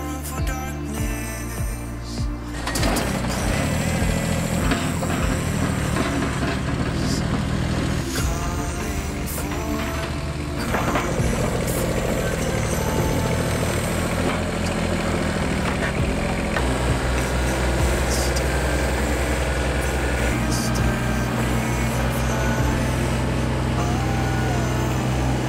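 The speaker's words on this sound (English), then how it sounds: "let's go see if that tractor will lift the other skid" A Kubota BX24 compact tractor with clamp-on forks strains to lift a skid of wood, its engine droning steadily and loudly throughout with mechanical clanks and rattles mixed in.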